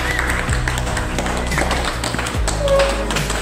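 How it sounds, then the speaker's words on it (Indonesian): Students in a classroom give a fellow student's group a round of applause, a dense, continuous patter of many hands clapping close by over a low background hum. "Dan dulu aplaus untuk rekannya"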